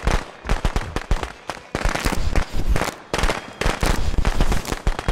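Rapid, dense crackling bursts of fireworks go off in Friday the 13th: The Game, loud and close, popping in irregular clusters with brief lulls and no voices over them.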